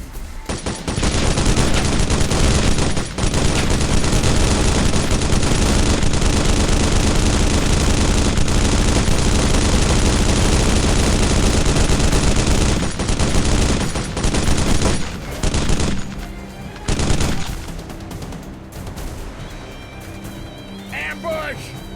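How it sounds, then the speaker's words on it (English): Sustained machine gun fire in the military shooter video game Modern Combat: Sandstorm, loud and dense for about fifteen seconds before breaking into scattered bursts under game voices. "Chief, man that machine gun."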